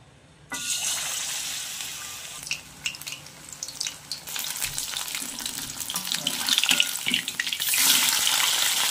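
Battered chicken pieces for crispy chicken satay frying in hot oil: a steady, loud, close sizzle and crackle that starts abruptly and keeps hissing throughout, swelling slightly toward the end.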